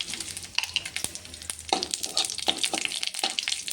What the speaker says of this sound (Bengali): তেলের মধ্যে আমি লঙ্কা দিয়ে দিয়েছি, শুকনো লঙ্কা। আর এখন দিয়ে দেব আমি কিছু কারি, আর দিয়ে দিচ্ছি কিছু সর্ষে।